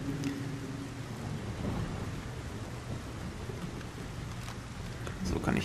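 In the video game Splinter Cell Pandora Tomorrow, steady rain hisses with a low rolling rumble of thunder. The whole scene is faint and continuous, with a slight swell near the end.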